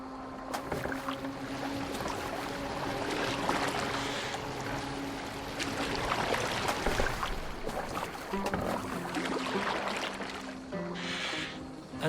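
A boat moves across the water in Assassin's Creed Valhalla, with continuous splashing and rushing water under a low wind and faint creaks, steady at moderate volume with no voices heard.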